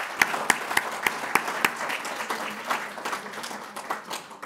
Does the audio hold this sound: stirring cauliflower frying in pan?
no